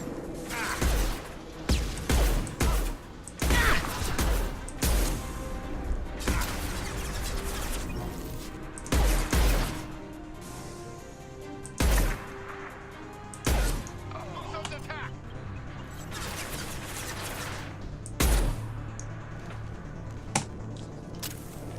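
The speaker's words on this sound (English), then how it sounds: "Oh, the hand cannon." Hand cannon pistol fire in the video game Mass Effect 2, heard as a series of sharp, loud gunshots spaced irregularly through a busy combat mix, with people talking over the action.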